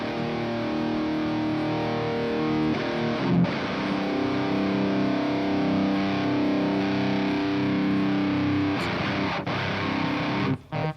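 A heavily distorted electric guitar plays sustained, crunchy chords through an amp simulation, ringing out loudly with brief pauses between strums.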